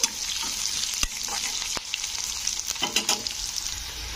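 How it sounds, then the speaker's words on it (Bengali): Green chillies and curry leaves fry with vegetables for semiya upma, a close, steady crackling sizzle broken by sharp spatula scrapes and stirring knocks, with no talking. "এবারে এখানে আমি দিয়ে দিচ্ছি কাঁচা লঙ্কা আর কারি পাতা"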